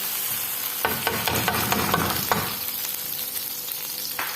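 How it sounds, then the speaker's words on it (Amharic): Butter is stirred while it fries in a pan, making a close, continuous crackling sizzle with a busier patch of stirring scrapes in the middle. "ቅቤውን በደንብ እንደዚህ አጣልቀዋለሁ።"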